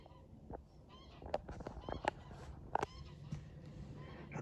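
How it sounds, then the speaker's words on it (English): Geese honking outdoors, several loud nasal calls rising over a soft background, coming in irregular bursts at moderate distance with brief gaps between cries. "the geese is coming back to challenge us again"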